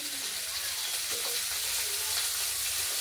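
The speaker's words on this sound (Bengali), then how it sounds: "কড়াইতে তেল গরম করে শিমগুলো আগে বসিয়ে নিয়েছি ভাজা করার জন্য।" Cut broad beans fry in hot oil in a wok, making a constant bright sizzle with faint stirring scrapes. It is close and steady, with no talking.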